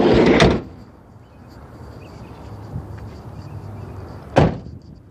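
The sliding door on an Aerostar XL minivan rolling shut, a loud rumbling slide at the start, quiet rustling, then a sharp latching thud near the end.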